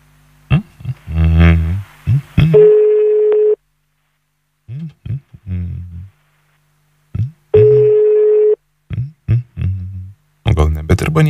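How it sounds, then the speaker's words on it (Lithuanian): A telephone number is dialed quickly on a live radio show, with bursts of dial tones and two long steady ringing tones separated by silences, close and loud, with people talking in between. "labai greitai renka Egidijus telefono numerį, skambinam kažkur kažkam"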